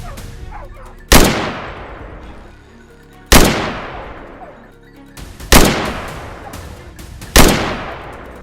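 Four loud, sharp gunshots ring out at roughly two-second intervals during a hunt for feral boars on open Texas hillsides, each crack followed by a long echoing decay.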